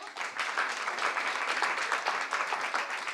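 At a regional sales competition final, an audience claps steadily in a dense, moderately loud round of applause with no talk over it.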